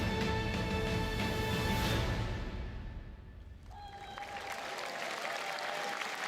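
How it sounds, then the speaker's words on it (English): A crowd applauds at the livestreamed Summer Game Fest 2025 showcase, a dense wash of clapping that swells briefly, fades away after a few seconds, then gives way to quieter tones and room sound. "The crowd goes wild?"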